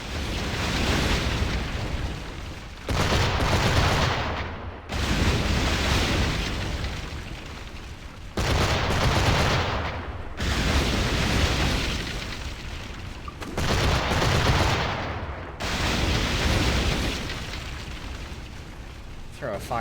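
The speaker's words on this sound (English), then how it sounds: "Drop the fire barrel" Fire barrels dropped and exploding in Assassin's Creed IV, a series of loud booming blasts with rumbling tails, separated by short gaps, under a continuous game soundscape.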